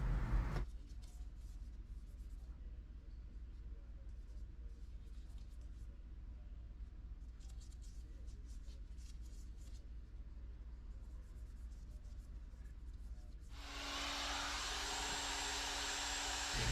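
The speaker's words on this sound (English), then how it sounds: "this thing is spinning extremely fast, even with the rotary only on the third or fourth speed setting" Rotary polisher with an aggressive foam pad spinning fast on a car wheel's spokes, a steady whirring drone that holds evenly throughout, then rises brighter and louder in the last few seconds.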